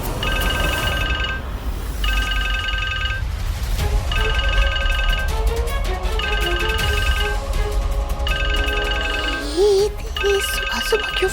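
A phone ringtone plays in repeated electronic bursts, about five rings spaced evenly, loud and close, with background music and indistinct sounds beneath.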